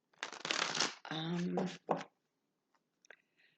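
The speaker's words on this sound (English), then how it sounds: "we'll do one last quick shuffle" A quick shuffle of a deck of cards, heard as a couple of close, papery riffling bursts with a voice mixed in, followed by near silence and a few faint clicks.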